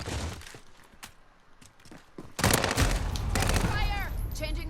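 Origin 12 shotgun from Call of Duty Modern Warfare firing in a rapid burst of loud, close blasts, starting quietly with faint shots before a heavy volley erupts midway and continues densely to the end.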